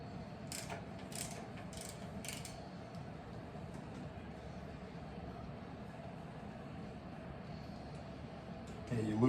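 A ratchet tightens riser bolts on a 2023 Harley-Davidson Fat Boy, giving faint, close clicking amid low background hum, with a few brief sharp clicks early on.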